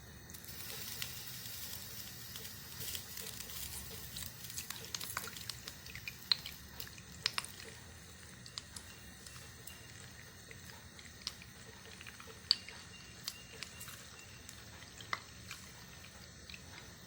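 Homemade desi ghee is strained after cooking off its water, giving a quiet, continuous fine sizzle and trickle with scattered small drips and clicks, faint and without any talk.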